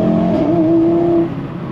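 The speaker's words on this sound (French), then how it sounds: "Vous voyez, au niveau du son, c'est juste superbe. On a un retour à l'échappement également." An Audi RS3 8V1 with a 367-horsepower five-cylinder and RS exhaust revs once, rising to a sustained growl, then drops off. The sound is loud and close, with no clear pops.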